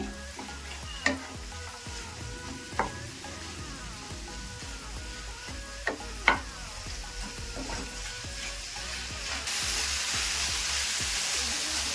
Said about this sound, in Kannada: ಒಂದ್ ಸ್ವಲ್ಪ ಕೊತ್ತಂಬರಿ ಸೊಪ್ಪು ಇದನ್ನ ಒಂದ್ ಸ್ವಲ್ಪ ಫ್ರೈ ಮಾಡ್ಕೊಂತ ಇದ್ದೀನಿ